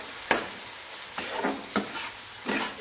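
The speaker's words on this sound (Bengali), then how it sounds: "মশলার সাথে ছতুটাকে ভালো করে ভেজে নেবো" Mushrooms frying with salt, turmeric and chilli in a pan, a steady quiet sizzle broken by four sharp stirring scrapes spaced across the moment.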